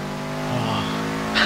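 A Subaru Legacy boxer engine in the game Forza Horizon 2 hums steadily and then swells as it revs, with a brief hissing turbo blow-off burst at the end.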